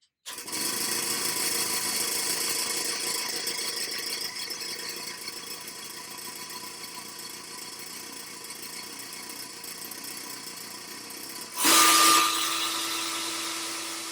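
A Melasty milking machine runs with a steady mechanical hum and a light rattle for a long stretch, then turns louder and more strained near the end with a sustained tone.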